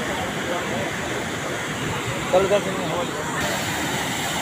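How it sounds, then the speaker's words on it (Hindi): Steady, forceful rush of a waterfall at Siddhnath Dari in Mirzapur, a broad continuous roar heard from a distance, with a brief faint sound rising over it midway. "झरना काफ़ी अंदर तक है और बहुत ही शायद पानी बहुत ही ज़बरदस्त गिर रहा है"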